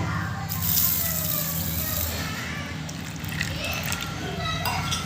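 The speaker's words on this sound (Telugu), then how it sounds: "కొన్ని వాటర్ పోసుకుందాము" Water poured onto soaking gram seeds in a bowl, a soft, fairly faint splashing trickle with low background sounds and brief murmurs of voice.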